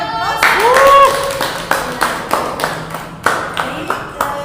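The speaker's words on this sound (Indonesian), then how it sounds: "Ya, kita beri aplaus." Small group giving a brief round of applause at a lecture, a short burst of clapping that thins into scattered, separate claps, with a voice over the start.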